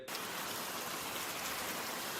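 Steady, dense rain patters evenly throughout, a constant wash of drops with no pauses.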